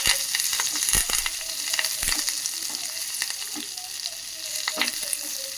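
Onion and curry leaves fry steadily in hot oil, a dense continuous sizzle with scattered pops and a few sharp clicks of a utensil against the pan, close and fairly loud, with no talking.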